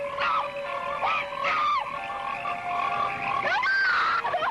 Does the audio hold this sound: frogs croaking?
yes